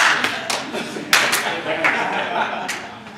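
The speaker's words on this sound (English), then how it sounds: "I want you to clap once for me" An audience at a leadership talk claps in a few scattered sharp bursts rather than one unified clap, with murmuring voices and light laughter between them.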